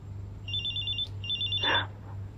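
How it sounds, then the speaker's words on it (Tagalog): Cellphone ringing in a radio drama, two bursts of a high electronic trill followed by a brief warbling tone, over a low steady hum. "Ang cellphone na ibinigay sa akin ni Kuya. Tumatawag siya."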